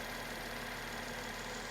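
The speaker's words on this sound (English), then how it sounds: "The engine sounds phenomenal" A 2014 Mercedes-Benz E350 AMG Sport Cabriolet engine idles quietly and steadily, a smooth, even hum with no other sounds over it.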